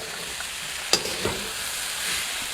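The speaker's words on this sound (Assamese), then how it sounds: "এতিয়া অকণমান সময় ভাজিম" Food fries steadily in a pan with a constant sizzle, and a spoon scrapes and stirs it with a couple of sharp clicks partway through.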